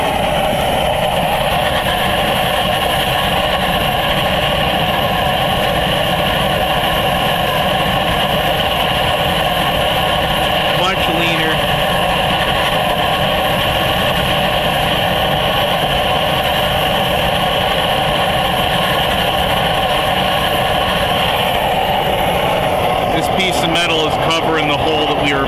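A homemade waste oil furnace burns steadily with a secondary air nozzle blowing air up into its tube and a short pipe added for draft, giving a continuous roaring drone that holds for the whole stretch and shifts slightly near the end.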